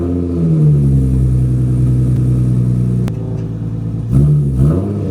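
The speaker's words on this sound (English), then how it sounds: "First I'm going to move the car up." A Nissan 350Z engine hums and rumbles close by, revving slightly as the car moves, with a brief clunk midway and another rise in revs near the end.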